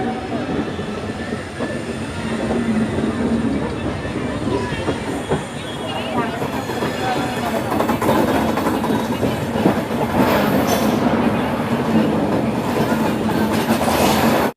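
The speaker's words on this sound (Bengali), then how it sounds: "6টা 55-তে শালিমার থেকে ছেড়ে দিল শ্রী জগন্নাথ এক্সপ্রেস।" The Sri Jagannath Express pulls out of Shalimar station with a steady, loud rumble of wheels and carriage noise, mixed with a busy background of voices and clatter throughout.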